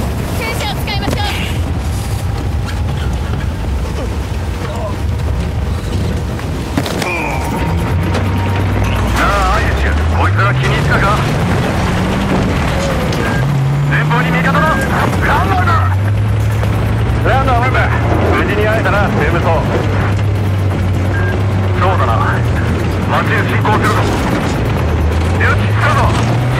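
Tank in the Battlefield 4 Singapore campaign, a low engine drone rumbling steadily beneath loud battle noise and speech, with pitch rising and falling as it moves.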